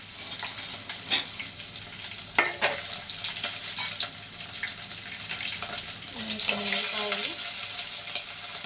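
Dried chillies sizzle in hot oil alongside mustard seeds while tempering for tomato rasam, a steady crackling fry close by with a few brief clinks and a louder burst toward the end.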